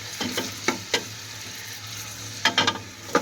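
Mutton pieces fry in hot ghee for nihari, giving a steady close sizzle broken by several sharp scraping stirs of a spoon against the pot.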